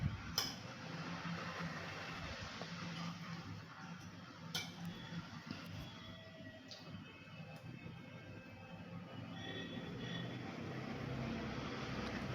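A spoon stirs thick thiruvathirai kali in a pan, making soft scraping sounds with scattered metallic clinks against the pan at a moderate distance over low background hum.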